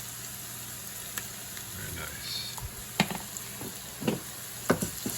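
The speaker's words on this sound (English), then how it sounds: "we're gonna put a little paste in here and fry our vegetables in some paste" Vegetables frying in tomato paste in a pan while making a wagyu bolognese: a steady close sizzle with scattered sharp stirring clatters, and a brief voice.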